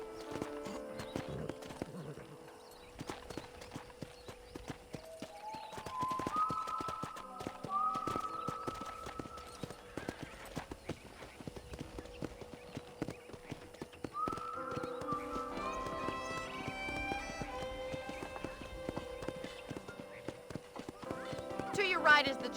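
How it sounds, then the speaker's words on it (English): Steady clip-clop of horse hooves trots along a ranch in the video game Red Dead Redemption, with a whinny and a voice talking over it. "let's see if you can still ride a horse"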